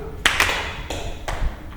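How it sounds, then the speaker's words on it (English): A few scattered claps from a classroom of pupils during a primary school revision lesson, sharp separate hits spread over under two seconds, fairly close and with no voices. "Yeah, a clap for her."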